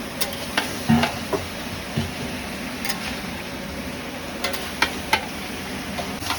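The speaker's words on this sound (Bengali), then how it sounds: "এবার কিছুক্ষণ কষাতে হবে" Potato and pointed gourd curry with onion and turmeric sautéing in a pan, a low, steady sizzle punctuated by scattered scrapes and knocks of a spatula against the metal.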